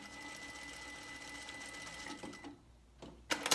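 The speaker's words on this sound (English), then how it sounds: "I'm going to sew it at 1/4 of an inch." A sewing machine stitches a seam on an N95 mask with a continuous, quiet, even whir, then stops abruptly, leaving a few faint handling clicks.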